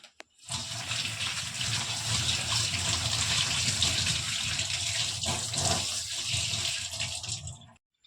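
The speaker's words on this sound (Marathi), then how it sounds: "आता मी ते स्वच्छ धुवून घेते." Running water pours steadily as tender kuda bean pods are rinsed under a tap, a continuous close gushing splash that starts and stops abruptly.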